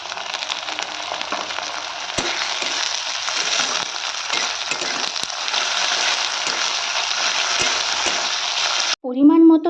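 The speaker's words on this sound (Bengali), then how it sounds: "পেঁয়াজটা খুব ভালো ভাজা ভাজা হয়ে গেছে এবার আমি দিয়ে দেবো সেই মাছের তেলটা" Onions fry in fish oil in a pan with a loud, continuous hiss and crackle for several seconds. A voice starts speaking just as the sizzle cuts off.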